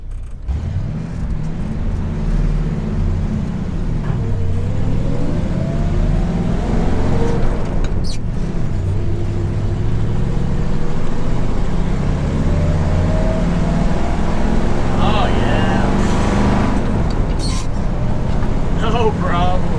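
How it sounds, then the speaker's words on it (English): A 1966 car engine runs steadily while driving out onto the street, a low continuous rumble with shifting pitch and a few sharp pops of backfire, with someone talking over it throughout. "Probably should have left the choke on a little longer. Oh, I still got some backfiring going on."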